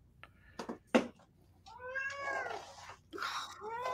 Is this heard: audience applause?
no